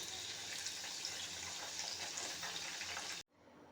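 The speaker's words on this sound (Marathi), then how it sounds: "तर चला मग बाकीचे पण आपण सारे असे पटापट तळून घेऊया" Wheat-flour modak deep-frying in hot oil: a steady, dense sizzle and crackle that holds evenly, then cuts off abruptly near the end, leaving near silence.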